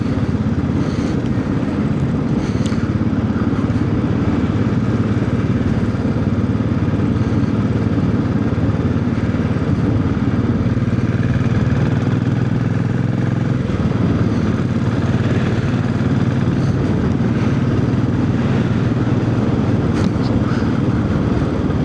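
A Classic 500 motorcycle engine drones steadily while riding on the road from Matlock toward Little Eaton, a constant low rumble mixed with wind noise throughout.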